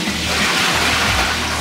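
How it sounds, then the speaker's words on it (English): A toilet flush at a narrowboat Elsan point in a canal basin: a steady, loud rush of water fills the whole short moment, with a low gurgling undertone. "Flush system."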